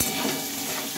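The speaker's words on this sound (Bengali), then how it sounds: "লবণটা আর হলুদটা মিশিয়ে আবার একটু নেড়ে চেড়ে নেব" Mango pieces sizzle in hot oil with salt and turmeric while a utensil stirs them, producing a brief, soft, steady frying hiss with light scraping, close and alone.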